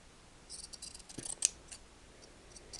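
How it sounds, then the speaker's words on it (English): Scissors trimming two slightly mismatched paper notecards at a sewing table, a run of soft, crisp snips clustered together, close and quiet with no talking. "I'm going to trim this because the two pieces were slightly different sizes"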